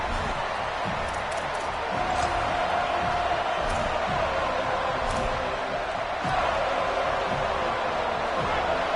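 A football stadium crowd roars in a dense, steady wash of cheering and noise throughout, with a commentator talking over it.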